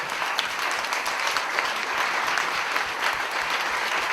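Sustained applause from an audience at a talk, dense and steady clapping filling the room for the whole stretch, with no voices over it.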